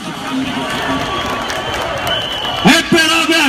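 A rally crowd at a CHP political rally in Karşıyaka applauds and cheers in protest, a broad wash of clapping that swells near the end while a speaker's voice carries over it.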